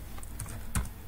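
Brief burst of typing on a computer keyboard while entering a Perl command at the command line, a few close, light key clicks with one sharper keystroke near the end, no talking.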